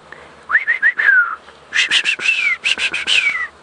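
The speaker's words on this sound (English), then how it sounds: "the white-faced whistling ducks, especially when they're in a big group and they all start making that beautiful call" White-faced whistling ducks give clear, high whistled calls in two lively bursts of repeated, slurred notes, loud and fairly close, on a sunset safari drive.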